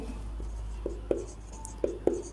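Pen or marker strokes writing a math formula during a Class 12 maths lesson, a few short scratchy taps and strokes spaced irregularly, fairly quiet over a steady low hum, with no talking.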